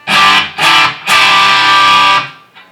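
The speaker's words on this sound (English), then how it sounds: "it's a little too much distortion for me. Let's pull this gain down just a bit." Electric guitar through a distortion pedal with high gain on a pedalboard, two short loud crunchy chord stabs followed by a longer sustained, saturated chord that rings out and fades, with no talking.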